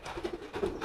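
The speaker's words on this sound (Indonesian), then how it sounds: "Mau mengeluarkan merpati yang sedang giring keras nih." A courting pigeon coos hard in low, throaty, rolling notes, close and steady, with a faint rustle of movement around it.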